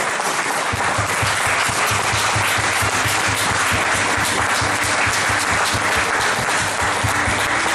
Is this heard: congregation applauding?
yes